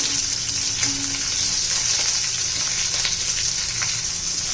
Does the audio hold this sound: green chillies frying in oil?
yes